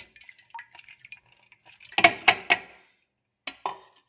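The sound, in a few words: washed lentils poured into pressure cooker with water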